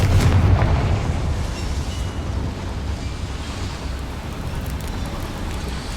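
Confringo fire spell blast in a wizarding video game, a heavy low rumbling burst at the start that decays into a long, roaring, wind-like wash, loud and close with no talk.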